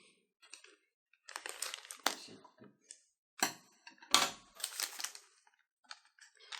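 Something tightly fastened that won't loosen is cut through by hand, heard as a series of close, crisp snipping and crunching bursts in irregular clusters separated by brief quiet gaps, fairly faint overall.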